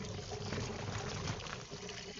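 Water drains out of a washing machine in a steady, faint pouring trickle that runs continuously without pause.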